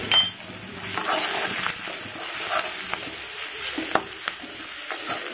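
Okra sizzling in hot oil in a pan while a utensil stirs it, with light scrapes and clinks against the pan over a continuous frying hiss.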